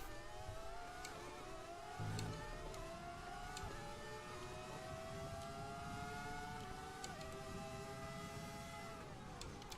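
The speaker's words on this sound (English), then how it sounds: "our Cosworth motor, he really suffers on the straight against the Ferrari motor" A Sauber Formula 1 car with a Cosworth engine screams down the straight at the Bahrain circuit in F1 2020, 1998 season. The high engine whine climbs steadily through the gears with brief dips at each upshift, loud and continuous throughout.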